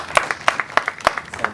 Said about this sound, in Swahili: Makofi jamani kwa.